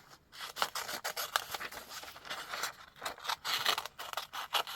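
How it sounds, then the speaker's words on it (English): Scissors fussy-cut a small paper piece for a scrapbook card cluster, giving rapid close snips and rustling paper in a quick, uneven rhythm with no voices. "I'm going to quickly cut out this little piece right here"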